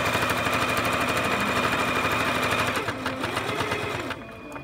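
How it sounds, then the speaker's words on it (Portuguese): A sewing machine stitching a mitred corner on fabric with the machine foot, a fast even mechanical rattle running loud and steady before slowing and stopping near the end. "Espera que eu vou costurar mais um pouquinho para a Elza poder mostrar no vídeo."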